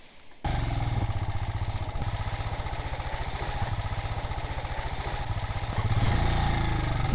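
A motorbike revving and riding along a muddy road in Vietnam, its engine a close, steady chugging drone that swells louder toward the end, with no talking.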